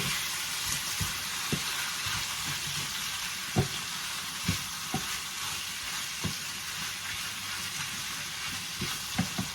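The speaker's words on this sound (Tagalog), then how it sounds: "Tuloy-tuloy lang ang pagpa-fry natin." Chicken pieces fry in a pan for creamy chicken with broccoli, a steady loud sizzle with scattered knocks and scrapes from stirring, no voices.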